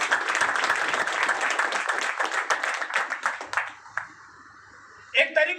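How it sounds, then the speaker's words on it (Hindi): A crowd at an RCM celebration event breaks into dense applause that fades out after about four seconds, leaving a quiet gap before a voice speaks briefly. "हमारे टीसी छावरा जी पर ताली बजा लो, जोरदार।"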